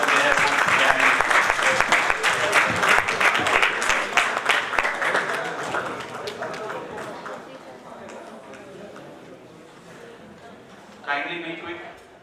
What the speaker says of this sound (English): I would request everyone to give a big round of applause for the all hard work they have put